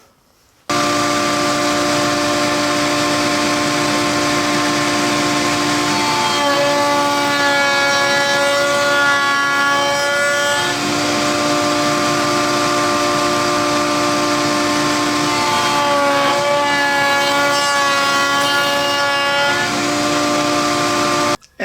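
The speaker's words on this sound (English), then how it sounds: "all I'm going to do is just route these out, starting at this point, sliding it into the bit, and finishing here" A router cutting a finger groove into the end of an end grain cutting board, a loud steady high-pitched whine running continuously, with the tone shifting and roughening in two passes as the bit bites into the wood.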